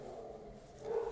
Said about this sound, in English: if you can hear my dogs barking in the background